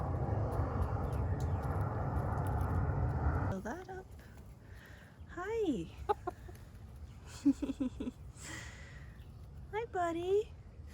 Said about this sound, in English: This is my mom's rooster.